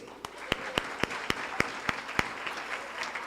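Applause from a luncheon crowd for the boys from Central helping out, with sharp individual claps standing out above a steady bed of clapping and some chatter.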